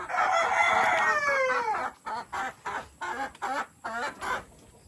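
Chickens at their nests give a loud, close crow that trails off, followed by a string of short, evenly spaced clucks.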